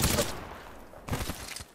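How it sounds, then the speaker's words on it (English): Rapid automatic gunfire in the shooter game Apex Legends, a loud burst at the start that thins out, then a second dense volley of shots, with some voice mixed in. "I am taking fire, friend."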